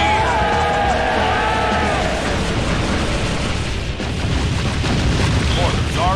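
Dense battlefield rumble with booming mortar artillery fire in the PC game Kingdom Under Fire: The Crusaders, a continuous loud low roar of blasts and crowd din with faint voices mixed into the background.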